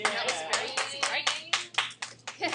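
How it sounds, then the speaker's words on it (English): Small algebra class applauding themselves, a short burst of quick, uneven handclaps in a quiet room, with some voices murmuring over the clapping. "Give yourselves a round of applause."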